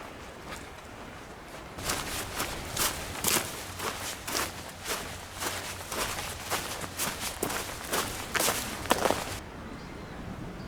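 Footsteps crunch through ash covering burnt garrigue scrubland after a wildfire, a steady series of close, crisp steps with a quiet outdoor background.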